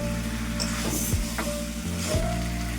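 Water poured onto frying potatoes and spices in a pan sets off a steady, loud hiss of sizzling, broken by a few soft clanks of a utensil.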